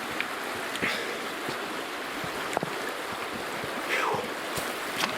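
Cold river water flows in a steady broadband rush, close and continuous, with occasional splashes and light wind buffeting on the microphone.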